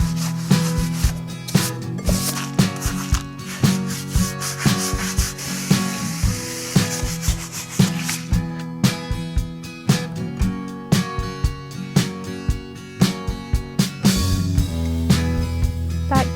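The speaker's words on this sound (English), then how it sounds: "This is the best kind of brush to scrub your patio with." A handled stiff-bristle brush scrubs a garden patio in brisk, rhythmic strokes, each a loud rasping swish repeating about twice a second, close and unbroken for the whole stretch.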